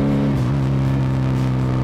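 Benelli Patagonian Eagle 250 FI motorcycle from 2020 on its stock exhaust, revving with a deep, throaty engine note that rises and holds briefly, loud and close.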